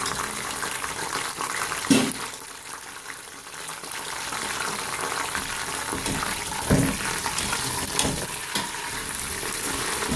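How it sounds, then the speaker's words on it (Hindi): Beef pieces, frozen, dropped into browned onions in a pot for nihari, sizzling and frying steadily with a few louder bursts and stirring clatter, close and alone. "और इसके बाद अब हम इसमें डालेंगे ये गोश्त"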